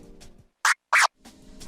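A DJ chirp scratched on a controller: two sharp, bright scratch bursts in quick succession, loud and close, after a faint background murmur, with no talk.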